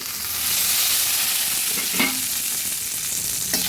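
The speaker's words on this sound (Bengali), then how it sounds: "আলুগুলো ভাজা হয়ে গেছে" Potatoes frying in a pan for a chickpea curry, giving a loud, continuous close sizzle with a couple of brief stirring clinks.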